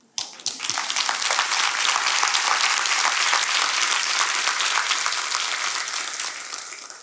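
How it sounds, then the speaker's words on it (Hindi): A room full of people applauding, a sustained wave of clapping that starts abruptly and holds steady before tapering slightly at the end. "खाली स्वराज के लीडर ही ताली बजा रहे हैं"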